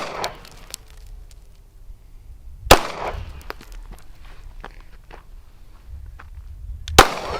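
Two sharp pistol shots crack out during a pistol shooting class, spaced several seconds apart and loud against a quiet outdoor range background with faint rustling between them.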